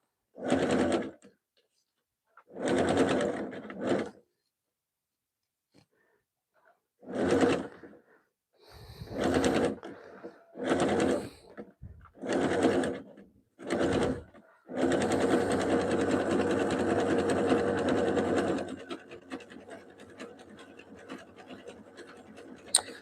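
Sewing machine stitching a jelly roll fabric rug with a wide zigzag, several short close bursts of whirring stitching separated by pauses, then one long steady run before it winds down.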